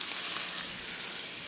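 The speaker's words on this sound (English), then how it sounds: "now all that's left to do is fry these suckers up" Pretzel-coated white bass fillets frying in hot oil, a steady, soft, even sizzle with no breaks.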